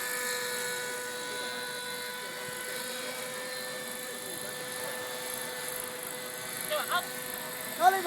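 A model aircraft flies overhead filming aerial footage at a model aviation carnival. It gives a thin, steady high-pitched motor whine, fairly faint and distant, with people talking in the crowd below.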